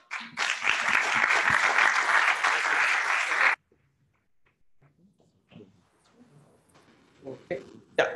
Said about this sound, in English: I will ask you a round of applause for him.